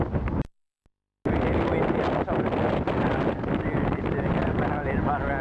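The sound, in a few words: wind blowing at the top of a tower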